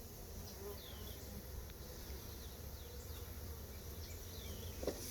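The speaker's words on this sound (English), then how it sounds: "the bees that don't make it in, we're gonna put right there in front of them" Honey bees buzzing during a package hive install, a faint, close, continuous drone with individual bees whining past at shifting pitches and a brief knock near the end.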